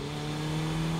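Car engine droning steadily at high revs while drifting through a corner, a sustained buzzing tone with no break over the short span.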